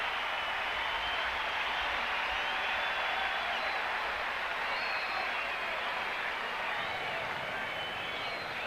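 A baseball stadium crowd at a Tigers versus Boston game roars steadily after a leadoff double, a broad, sustained wash of cheering that stays even throughout, heard from a distance without clear individual voices.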